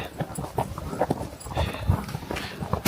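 Horse hooves clip-clop steadily on a trail during a horseback ride near Kaindy Lake, Kazakhstan, with close, uneven rhythmic beats over three seconds and faint riders' voices in the background.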